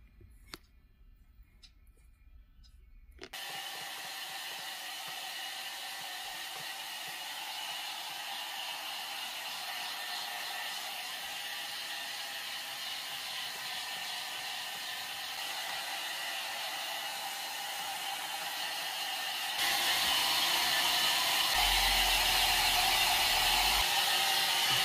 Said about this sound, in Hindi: गरम गरम गरम हेयर ड्रायर से सुखाएगा